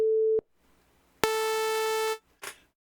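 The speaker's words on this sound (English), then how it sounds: "Now if we come back over here to Audacity, we'll have that tone, and you can hear" A steady 440 Hz tone, the A above middle C, is generated in Audacity and played as two separate bursts: a short pure tone and then a longer, buzzier version of roughly one second with rich overtones, each starting and stopping abruptly.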